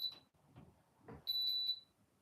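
A kitchen oven beeps, a high steady electronic tone that sounds briefly at the start and then holds for about half a second, with faint voices and movement between the tones in a quiet room.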